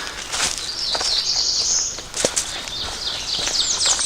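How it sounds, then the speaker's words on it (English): Birds sing and chirp steadily along a rocky forest trail on Butler Knob, with high twittering phrases throughout, occasional footsteps and faint rustling underneath. "Scene just filled with bird songs."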